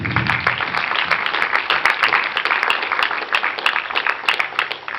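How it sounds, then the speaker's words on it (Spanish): Dense applause from a church congregation during a sermon, steady and fairly loud throughout, fading slightly at the end. "Denle un fuerte aplauso al Señor."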